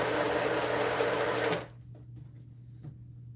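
A sewing machine stitches quilt seams at a fast, steady whir for about a second and a half, then stops, leaving a quiet room with a low hum and a few faint clicks.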